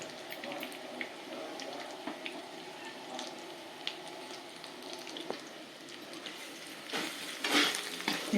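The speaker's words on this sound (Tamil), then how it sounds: "மீடியம் ஃப்ளேமில் வச்சு எண்ணெயை விட்டு கலரிண்டே இருந்தாக்க நல்லா வெந்து நல்லா உதிரி உதிரியாக வந்துடும்" Lentil usili with cluster beans fries in oil over a medium flame, giving a low steady sizzle broken by frequent spoon clicks and scrapes as it is stirred, with a louder burst of clatter near the end.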